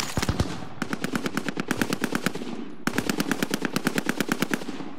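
Rapid automatic gunfire in a Warzone Resurgence match comes from below in two long sustained bursts, with a few heavier single shots at the start and a brief pause between the bursts, loud and close, with no talk.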